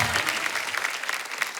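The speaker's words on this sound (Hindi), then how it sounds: "जोरदार तालियां कृति के लिए।" A studio audience applauds loudly for actress Kriti Sanon as she is welcomed onto a stage: continuous dense clapping from a crowd that stays strong throughout the short stretch.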